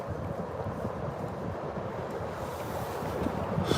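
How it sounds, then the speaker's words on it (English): Wind buffets the microphone over choppy water, a continuous rough rumble with splashing swell rising toward the end. "Water's really choppy now, the wind's blowing."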